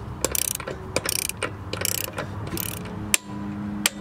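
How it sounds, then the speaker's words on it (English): A torque wrench ratchets in quick repeated bursts of clicks while tightening the front axle nut of a Mercury Mountaineer or Ford Explorer to 190 foot-pounds after a wheel bearing hub replacement, close and crisp, with a sharp click near the end. "Now we're going to grab our torque wrench, and we're going to tighten this down to 190 foot-pounds."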